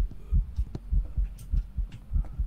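Rhythmic heartbeat from the Phasmophobia video game, a steady run of deep, muffled double thumps at a fairly quick pace, close and alone without talk.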